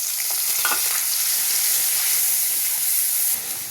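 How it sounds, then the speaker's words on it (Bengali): Cumin, dried chili, two cinnamon sticks and three cardamom pods crackle in hot oil for a prawn and potol dish, giving a loud, continuous sizzle and steamy hiss with small pops throughout. "একই তেলে আমি এখানে ফোড়নে দেবো জিরে, শুকনো লঙ্কা, দুটো দারচিনি আর 3টে এলাচ।"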